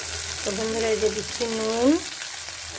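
A spice mixture bubbles and sizzles steadily in a pan, a soft continuous frying hiss under a person speaking close by.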